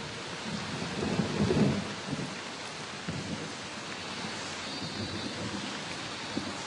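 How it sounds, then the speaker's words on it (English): Heavy monsoon rain hisses steadily while thunder rumbles low and heavy, swelling into a stronger roll early on and then grumbling more softly beneath the downpour. "The incessant rains of the monsoon are the last straw."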